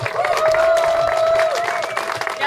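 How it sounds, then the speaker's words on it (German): Audience applause at an outdoor protest demonstration against surveillance in Bad Aibling, a steady wash of clapping and crowd noise lasting a couple of seconds, with a sustained tone running through it. "Applaus bitte."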